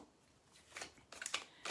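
Tarot cards shuffled by hand in a few soft, papery riffling bursts, quiet and close, with short gaps between them.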